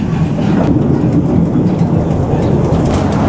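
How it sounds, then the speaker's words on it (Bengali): A small ride-on amusement park train rumbles and clatters steadily along its track around a pond, loud and close, with faint birds in the background. "আর শুরু হয়ে গেছে আমাদের বুলেট ট্রেন রাইড"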